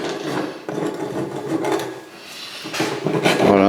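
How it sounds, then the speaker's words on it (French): Lead pipe being scraped clean before soldering a lead-to-copper joint, a close rasping, filing-like scraping in repeated strokes of varying length. "c'est important de bien nettoyer le plomb avant de"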